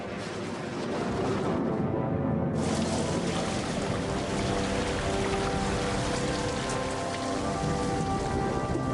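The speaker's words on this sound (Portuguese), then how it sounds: "Quando a atmosfera estava saturada, a chuva começou." Torrential rain falls in a steady, dense, unbroken hiss over a surface, loud and continuous throughout, with no voices present.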